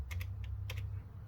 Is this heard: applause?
no